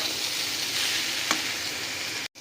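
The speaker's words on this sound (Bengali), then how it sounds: "এবার এইগুলোকে ঢাকা দিয়ে আমরা খুব ভালো করে মশলাটাকে ভাজা করে নেব।" Chicken masala spices and tomato fry in a pan for a Jharkhand mutton rugra curry, giving a steady close sizzle with one brief stir clink midway, then a short break near the end.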